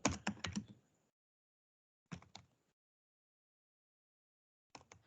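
Computer keyboard typing a code comment in a quiet room: three short bursts of rapid clicky keystrokes, the first longest, separated by silence.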